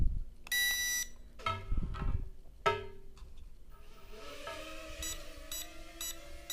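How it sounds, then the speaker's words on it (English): A JJRC H8 Mini quadcopter remote control beeping after switching into headless mode, a few short electronic beeps alone at close range amid faint clicks and handling noise. "I know it's in headless mode because the remote starts beeping"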